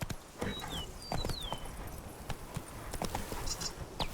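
Hooves of the horse Roach clip-clop at a walk in a fantasy role-playing game, steady irregular thuds with faint birdsong whistles in the background, quiet and fairly near.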